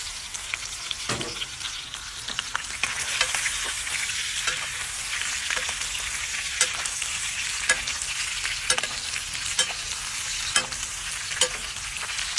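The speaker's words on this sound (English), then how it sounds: "we're going to bake the steak with the liquid" Steak with rosemary, garlic and liquid sizzles loudly and steadily up close for the whole stretch, punctuated by occasional light clinks and taps from a utensil.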